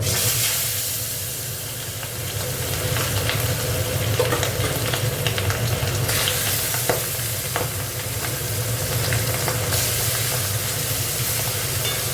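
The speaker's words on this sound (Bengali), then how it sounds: "দেখো, মাছটা একটু ভেজে নেবো" Aar fish fries in a pan with a loud, continuous sizzle and crackle and some stirring noise. It runs steadily with no talking.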